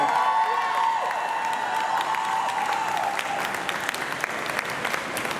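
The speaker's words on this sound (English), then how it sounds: "Make some noise for Miss Tanya and Jasmine." Steady applause from a large crowd at an International Working Women's Day event in Philadelphia, with scattered cheers and whistles, loud and continuous throughout.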